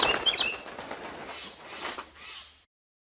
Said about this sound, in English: Now let's preview the sound with the bird flaps.